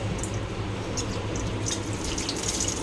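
Water runs steadily from a tap during washing, a close, even splashing flow with faint higher splatters and no voices.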